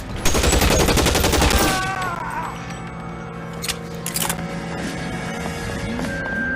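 Gunfire in the L.A. Noire video game: a dense, rapid volley of shots rattles for about two seconds, then scattered shots and mechanical clatter continue over a steady game background.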